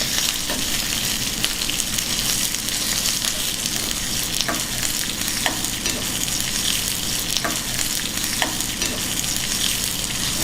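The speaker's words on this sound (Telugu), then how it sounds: "ఇప్పుడు ముందుగా కట్ చేసి పెట్టుకున్న ఉల్లిపాయ ముక్కల్ని కూడా వేసి వేయించుకుందాం." Onions, garlic, dried red chillies and curry leaves frying in hot oil as a tempering for drumstick sambar, a continuous close sizzle with occasional sharp crackles and spatters, no voices.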